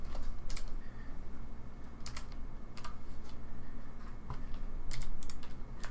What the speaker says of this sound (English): it is a Logitech G815, and they are clicky keys